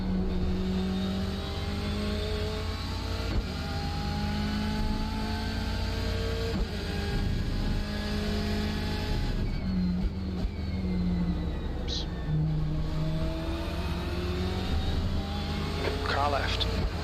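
A BMW race car engine accelerates in the iRacing sim at Donington Park, droning loudly and continuously with repeated rising pitch sweeps through the gears, while a voice talks over it.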